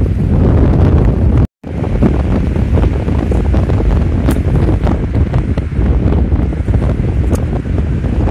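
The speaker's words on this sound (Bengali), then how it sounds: "একটু খেয়াল করে শুনবেন যে বাতাসের শব্দটা কিভাবে শোনা যাচ্ছে।" Strong wind buffets the microphone outdoors, a loud, continuous roar that blows steadily with gusts and rumble. It cuts out for a moment near the start, and there is no talking.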